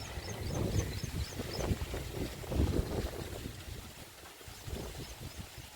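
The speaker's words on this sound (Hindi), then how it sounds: "तेज़ हवा चल रही है" Strong wind gusts across a trench-planted sugarcane field, a loud, steady rumble buffeting the microphone in uneven surges, with no voices.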